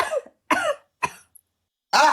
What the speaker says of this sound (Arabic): الست بتكح من ايه؟